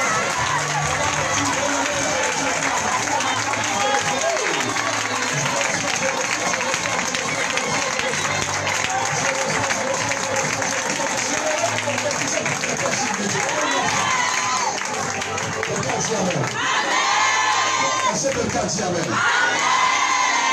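Church congregation at a prophetic worship service cheering, shouting and acclaiming together, a dense continuous crowd roar that stays loud throughout, with whoops and children's shouts rising near the end.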